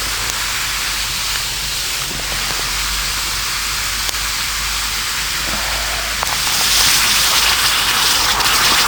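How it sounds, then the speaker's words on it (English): Water brought to a rolling boil by hot rocks dropped in during primitive bushcraft cooking, a steady close hissing and bubbling roar that grows louder toward the end. "Get a nice boil now"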